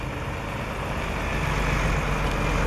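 A bus engine idling at the Brasília bus station, a steady low diesel rumble that holds constant and close with no talk over it.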